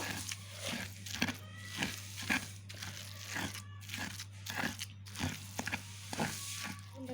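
Onion crushed by hand for a Bangladeshi mash (bharta), giving repeated wet crunching squeezes at a steady rhythm over a constant low electrical hum, quiet and close.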